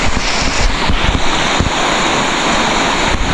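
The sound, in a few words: strong rushing river water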